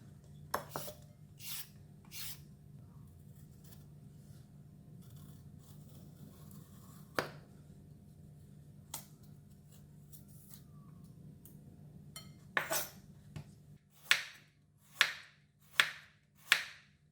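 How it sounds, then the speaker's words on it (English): Cauliflower and carrot are cut with a knife: sparse, scattered taps and scrapes on a quiet board, then four evenly spaced crisp chops at the end. "So I'm going to start off with cutting the vegetable first,"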